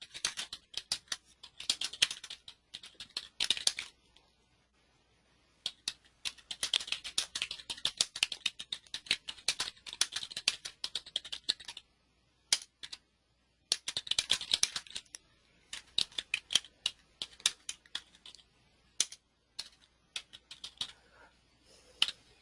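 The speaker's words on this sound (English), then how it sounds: "I'll just type in something" Fast bursts of computer keyboard typing as a note is entered, crisp close keystrokes in irregular runs separated by brief pauses, with no talking.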